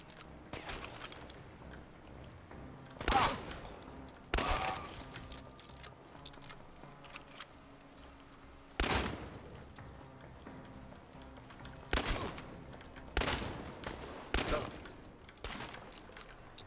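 Sharp bursts of gunfire from the video game Chernobylite ring out in several separate volleys spread over the stretch, loud against a quieter game backdrop, with a player's voice talking now and then.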